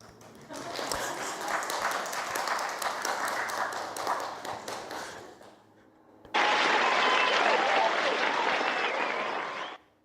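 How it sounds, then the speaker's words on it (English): Audience applause during a Buddhist Dharma talk on the Avatamsaka Sutra, dense clapping from a crowd lasting several seconds, dipping briefly, then a second loud sustained burst of applause. "Applause, applause."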